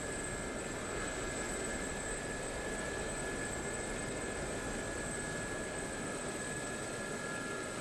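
Gazelle helicopter in DCS World flight simulation, a steady whirring engine and rotor drone with a constant high whine, continuous and even throughout with no talk.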